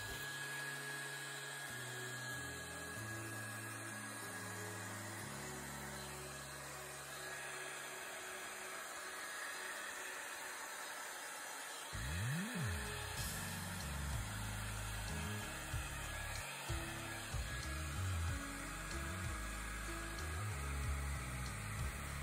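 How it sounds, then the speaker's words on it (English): A hair dryer blows steadily for the whole stretch, a constant whooshing roar with a faint motor whine and soft low tones underneath. "And now use a hair dryer to blow out our"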